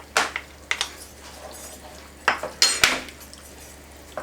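A utensil stirs pasta sauce with courgettes and melting cheese in a pan, giving a few scattered scraping clinks against the pan, separated by quiet gaps.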